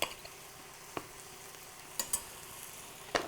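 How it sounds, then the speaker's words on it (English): Potatoes frying in butter with fresh thyme, a steady soft sizzle with a few sharp scrapes of stirring scattered through. "Okay, and all we do is stir it."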